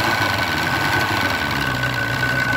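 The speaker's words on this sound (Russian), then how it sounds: "Сейчас прогазую. Вот это пошла." A 1999 Force 120 outboard boat engine runs close by with a steady, loud, rough mechanical drone and rattling vibration, holding at a constant level throughout.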